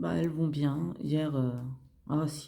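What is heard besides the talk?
None of the usual background noises is heard.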